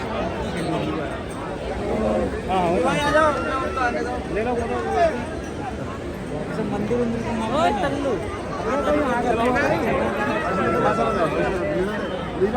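Crowd chatter fills a busy street in Vrindavan, many voices talking at once close by in a continuous babble, with occasional louder calls rising above the murmur.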